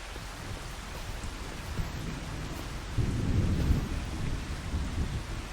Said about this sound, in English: we're waiting to see when this rain stops here